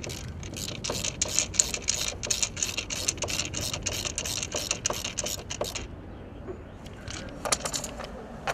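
A ratchet drives a screw in with a rapid run of regular clicks for several seconds, close and fairly loud, then stops, followed by a few scattered light clicks.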